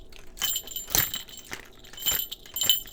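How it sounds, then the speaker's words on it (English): Lanyards hung up at a convention clink and jangle together with a small bell charm, a few soft metallic bursts close by, light and irregular. "I keep all of the lanyards up over here that you can hopefully hear clinking around."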